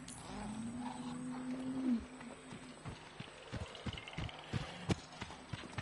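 A creature roars in the VR video game Robinson: The Journey, a tonal growl for about two seconds, followed by scattered thumps and clatter at moderate volume.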